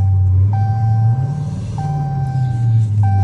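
Steady deep engine rumble of a rebuilt Dodge Challenger with a shaker pack on a test drive, heard from inside the cabin, with faint repeating electronic chimes over the drone.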